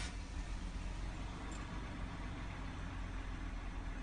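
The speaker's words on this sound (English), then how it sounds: "You can hear there the idle is pretty smooth for a little bit" A 1988 Jaguar XJ40 with the 3.6 engine idles warm after an oil and coolant change, a steady low rumble with an even, smooth rhythm, close and moderately loud, no talking.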